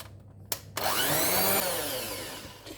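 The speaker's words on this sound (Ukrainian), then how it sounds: "сіль, ванільний цукор і цукор з яйцями збиваємо в однорідну таку білу масу, яка повинна збільшитися в три рази" An electric mixer whisks eggs with sugar, salt and vanilla sugar into a white foam for a charlotte, a steady high whirring after a couple of clicks as it starts, running continuously and fading slightly.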